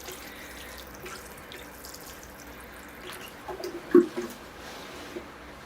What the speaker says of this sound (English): it seems to be draining really well